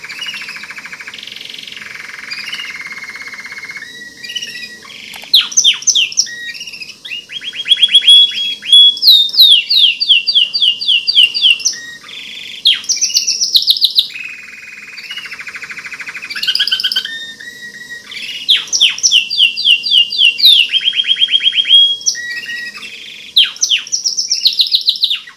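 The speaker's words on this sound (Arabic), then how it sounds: "يعتبر كنار الأحمر من كنار الشكل، وكذلك هو له صوت جميل." A red factor canary sings close up in bright, rapid trills and warbling phrases, repeating in bursts with short pauses between them.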